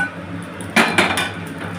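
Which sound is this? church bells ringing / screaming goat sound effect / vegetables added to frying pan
vegetables added to frying pan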